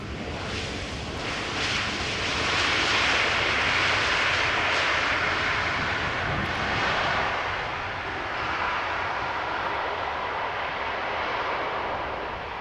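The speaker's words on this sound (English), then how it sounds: "This is EasyJet flight 27842, Airbus A320neo. Touching down, arriving from Birmingham." An EasyJet Airbus A320neo touches down at Amsterdam Schiphol, arriving from Birmingham: a broad, steady engine roar and rushing noise that swells gradually and holds at moderate loudness with no voices.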